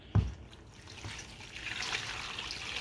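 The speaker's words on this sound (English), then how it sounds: "There you go, the hot water." Hot water runs in a faint, steady trickle that builds slightly, after a brief knock at the start.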